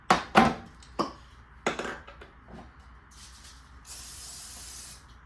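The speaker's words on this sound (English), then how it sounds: "start off with greasing up your loaf pan" Short hissing bursts of cooking spray greasing a loaf pan for banana bread, several quick sprays near the start followed by a longer, steadier spray toward the end, close and fairly quiet.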